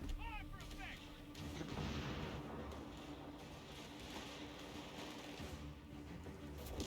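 Dense battlefield din from Company of Heroes 3, with artillery and gunfire booms piling on each other under a steady rumble. Someone speaks faintly in the mix.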